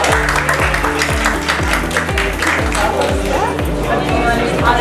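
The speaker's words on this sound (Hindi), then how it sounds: "आपकी भरपूर तालियों में एहसन कामरे" Audience applause at the 21st anniversary ceremony of PU FM 104.6 radio, a steady wash of clapping with prominent music and voices over it, loud and continuous throughout.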